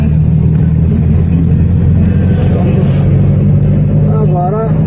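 A classic VW Fusca (Beetle) idles and pulls away after a home wheel alignment, its air-cooled engine a steady, loud, close low rumble throughout with a brief voice near the end.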